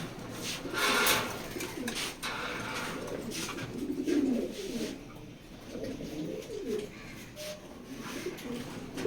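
Racer pigeons cooing steadily in a loft, soft repeated throaty coos close by against a busy background of other birds, with no talk.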